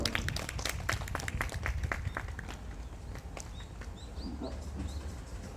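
A small crowd at an outdoor press conference claps, with scattered, uneven handclaps that are fairly loud at first and then thin out and fade, while birds chirp faintly in the background.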